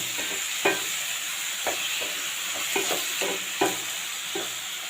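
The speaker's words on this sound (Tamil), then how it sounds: "போட்டு எல்லாத்தையும் நல்லா மிக்ஸ் பண்ணி விடுங்க" Spoon stirring tomato chutney in a pan after chili powder and half a spoon of garam masala go in, giving soft irregular scrapes and clacks over a steady faint sizzle, with no talking.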